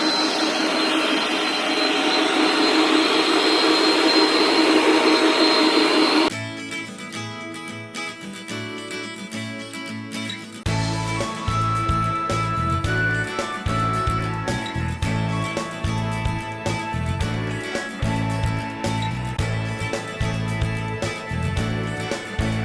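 Concrete countertop being polished with a loud electric polisher grinding off the cream layer into slurry; a broadband whine runs first, then a steady machine roar with rhythmic pulsing continues to the end, no talk.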